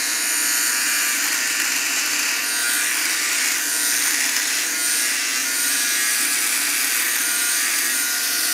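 An electric shaver buzzes close up while trimming facial hair, giving a steady high-pitched whir that holds for the whole stretch without a break. No one speaks.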